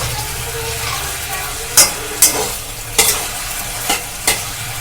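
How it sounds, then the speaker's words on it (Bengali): Chicken being stir-fried in a covered pan with its own juices, a steady sizzle broken by five sharp spatula scrapes and stirs spaced about half a second to a second apart, close and fairly loud with no talking. "এটাকে ভালো করে কষবো ঢাকা দিয়ে দিয়ে এইভাবে কষবেন যাতে চিকেনটা কুক হতে থাকে"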